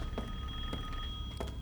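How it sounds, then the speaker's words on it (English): A phone rings inside the horror game Resident Evil Village, with about three short repeated rings spaced evenly against a steady hum of in-game ambience. "Why is my phone ringing?"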